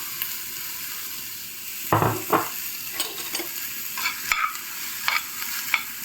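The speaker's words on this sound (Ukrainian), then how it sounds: "На сковорідку відправляємо туди цибулю." Onion sizzles and crackles in hot lard in a pan, with a steady fizz and occasional scraping stirs of a utensil.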